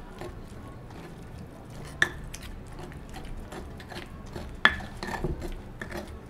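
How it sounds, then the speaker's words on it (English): Fresh guacamole stirred tableside in a bowl, a soft wet squishing of avocado with scattered clinks of a utensil against the bowl, including two sharper taps, close and moderately quiet. "just mix all the ingredients together"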